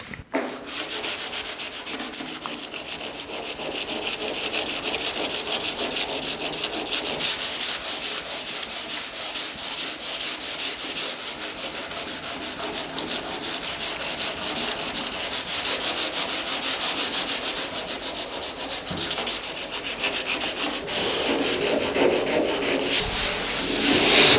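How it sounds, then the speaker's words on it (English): Sandpaper rubs steadily over the edges of a model rally car, weathering its bodywork. The scratchy abrasion is loud, close and nearly continuous, with only slight changes in stroke, and no one speaks. "We can get that in place with some sandpaper as well."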